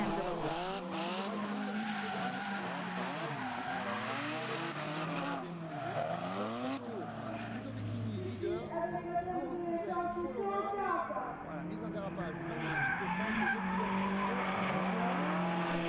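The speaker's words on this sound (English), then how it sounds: "Good frontal skid, another transition." Drift cars, including a BMW, slide through a transition at a French Drift championship round in Salbris, with loud, sustained tire squeal and screeching engines sweeping up and down, while a commentator talks over the action.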